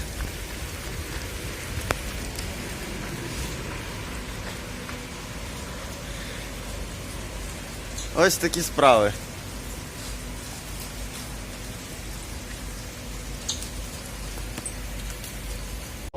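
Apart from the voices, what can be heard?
rain falling outdoors in Scotland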